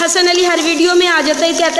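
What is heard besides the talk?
None of the usual background noises is heard.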